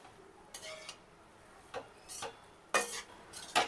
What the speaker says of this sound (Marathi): मीठ चांगलं मिक्स करून घेऊयात